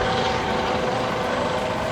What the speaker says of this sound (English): That helicopter is equipped for day and night operation